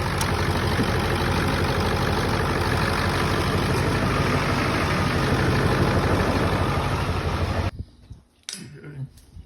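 A Ford 7.3 Powerstroke diesel engine idles steadily with a dense, even low rumble, running close and loud for most of the stretch before shutting off abruptly, leaving quiet handling noises.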